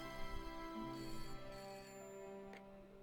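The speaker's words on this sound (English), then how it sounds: "It's a phone." A phone rings in the Broken Sword point-and-click adventure game, a steady electronic tone held under quiet game music, faint and with no talking.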